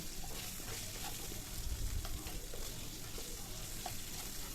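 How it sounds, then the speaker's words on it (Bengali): Sliced potatoes frying in hot oil with salt and turmeric, a steady close-up sizzle with a brief swell of louder crackling partway through, no voices. "এবার এর মধ্যে নুন আর হলুদ দিয়ে আমি আলুটা ভেজে নেব"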